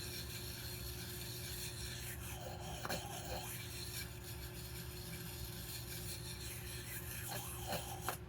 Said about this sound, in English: Because I'm worrying the burr off of this blade is what I'm doing.